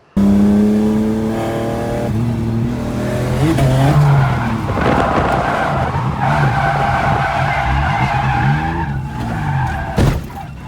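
A BMW E36 drifting in tandem with another car at a drift event: loud, continuous tyre squeal and skidding over a revving engine, the pitch rising and shifting throughout, with a sharp bump near the end.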